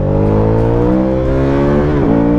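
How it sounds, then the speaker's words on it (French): An Aprilia Caponord 1200 motorcycle with its stock exhaust revs loud and close, a steady engine drone that climbs in pitch and dips sharply near the end. "Et le pot d'origine, il pétarade, quoi."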